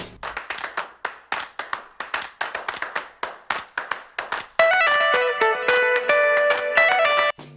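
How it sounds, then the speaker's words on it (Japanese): A downloaded music track plays back: about four seconds of sharp, rhythmic clap-like hits, then sustained bright tonal chords and notes carrying on to the end, heard alone without speech. "こちらミュージックベッドさんからダウンロードしました音楽です"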